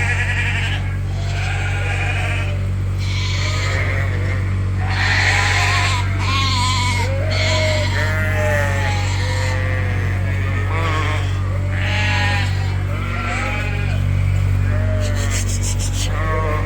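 Sheep and lambs bleat in a pen on a sheep farm, with many overlapping calls in close, irregular bursts over a constant low background hum.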